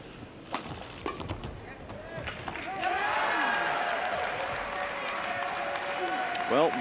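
Badminton crowd at the Tokyo 2020 Paralympic Games, with Danish fans among the spectators, breaking into building cheers and applause after a few sharp racket and shoe sounds, the roar swelling and holding steady to the end.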